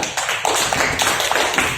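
A high school class of students applauds during a lesson, a dense, steady patter of many hands clapping close by, sustained for nearly two seconds without voices.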